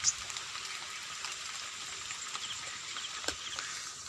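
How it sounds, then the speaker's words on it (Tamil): Soft, steady patter of rain on a surface, with scattered small drop hits over a continuous hiss, no voices. "பாருங்கள் மழை பெய்யுது"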